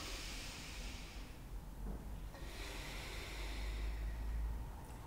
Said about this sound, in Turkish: Ve şimdi ujjayi nefesini hatırla.